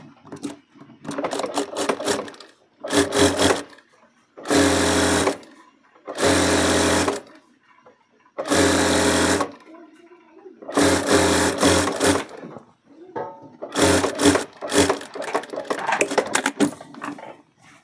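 An industrial garment-training sewing machine topstitching a garment runs in loud bursts of rapid needle chatter, about nine runs separated by short pauses, close by, with a voice heard faintly between runs.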